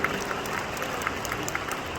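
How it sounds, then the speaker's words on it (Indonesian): Applause from a seminar audience in Kuala Lumpur fills the room, a steady, fairly quiet patter of many hands clapping with no voices over it. "Kita pantas beri tepuk tangan yang paling meriah untuk Riway internasional."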